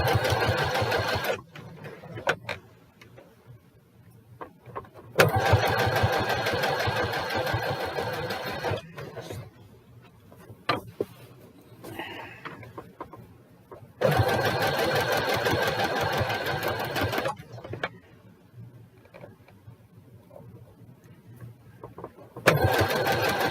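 A sewing machine stitching a quilt runs in loud, close bursts of several seconds each, separated by quieter pauses with small handling clicks and rustles.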